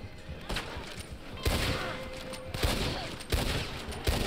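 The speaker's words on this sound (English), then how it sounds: "Stop shooting my wagon because you're gonna destroy it." Gunfire in Red Dead Online during a shootout over a wagon: several sharp shots crack out at irregular intervals over a steady outdoor backdrop, fairly close, with scattered rapid volleys.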